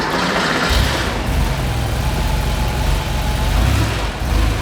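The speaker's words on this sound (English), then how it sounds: "there's no mistaking the sound of an air-cooled Porsche" An air-cooled Porsche 911 engine catches and starts about a second in, then settles into a loud, close, steady idle with a low throbbing rumble and a broad mechanical whir.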